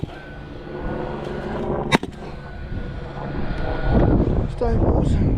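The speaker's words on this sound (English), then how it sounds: "The old Westpac rescue helicopter." Low rumble of a Westpac rescue helicopter passing over farmland, a steady broadband drone that swells louder toward the end, mixed with wind buffeting the microphone and a sharp knock midway.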